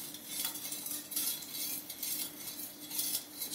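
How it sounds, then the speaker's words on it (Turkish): A spoon stirs anchovy pilaki in a pot in a home kitchen, making close, uneven scraping and light metallic clinks in irregular bursts, with no voices. "Şöyle bir karıştıralım."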